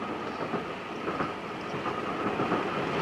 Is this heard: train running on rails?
yes